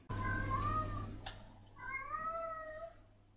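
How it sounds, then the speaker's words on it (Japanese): A cat meows twice, drawn-out and fairly faint, heard during online play of Splatoon 3 over a low steady hum. "なんか猫の鳴き声聞こえる気がする。"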